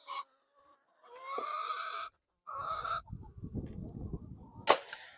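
Speckled Sussex chickens in a farm coop, close and loud, giving several separate bursts of harsh squawking and honk-like calls with short silent gaps, then scratchy rustling and one sharp high squawk near the end.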